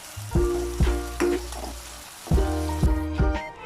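Jackfruit chips frying in hot oil with salt and turmeric, a steady sizzle broken by several sharp scraping stirs and clinks of a utensil against the pan, close and fairly loud with no voices.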